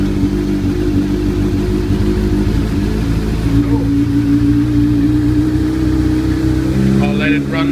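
A freshly serviced engine idles steadily after starting, with a loud, continuous low rumble heard up close. A voice speaks briefly near the end.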